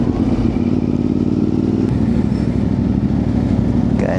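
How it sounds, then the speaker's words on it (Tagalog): CFMoto 450MT adventure motorcycle ridden over a bumpy, potholed road, its engine droning steadily and close with faint rattles from the uneven surface, and no talk. "Ang maganda nito adventure bike sobrang komportable kahit malubak yung kalsada"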